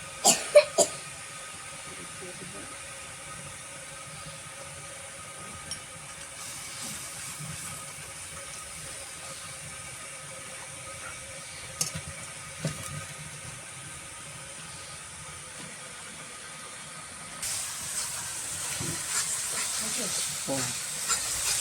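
Spices with turmeric sautéing in a pan, a soft steady hiss and sizzle close by, with a few knocks near the start and a brighter, louder sizzle toward the end.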